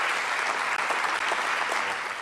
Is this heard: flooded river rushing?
no